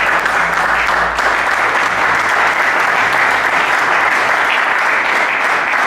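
A church congregation applauding to acclaim the Lord, a dense, steady roar of clapping from many hands that fills the whole span at high volume without pause.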